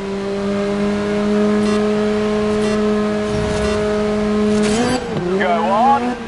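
Race car engines in a PS5 endurance racing game at a Japanese speedway drone with steady high revs, then shift and wind up again near the end as the cars accelerate, with a commentator's voice running over them.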